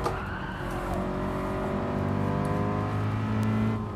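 A Toyota GR86 engine in the racing game Gran Turismo 7 drones loudly and steadily, its pitch climbing smoothly as the car accelerates, with no talk over it.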